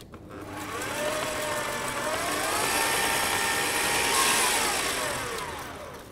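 A hand mixer creaming butter and sugar in a bowl for chocolate cupcakes: a steady, close, whirring motor drone with a gently wavering pitch, running continuously for the whole stretch with no talking.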